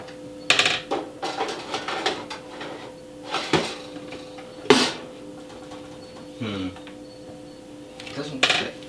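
A ceramic baking dish clatters and scrapes against oven racks as it is pushed into the oven, with several sharp knocks and metallic clinks spaced over a few seconds, heard close up in a kitchen.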